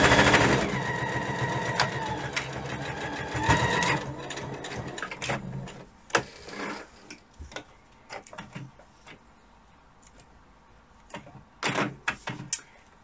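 A sewing machine stitches a 0.5 cm seam on a small fabric pouch, running in a loud, rapid whir for about four seconds, then giving way to scattered clicks, taps and short stitching bursts.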